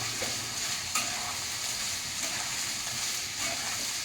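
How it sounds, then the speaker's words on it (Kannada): Chopped capsicum frying in hot oil in a pan, a dense continuous sizzle and crackle with occasional stirring clinks, close up and steady for several seconds, no voices. "ಕ್ಯಾಪ್ಸಿಕಮ್ ಸ್ವಲ್ಪ ಫ್ರೈ ಮಾಡ್ಕೊಳ್ಳೋಣ."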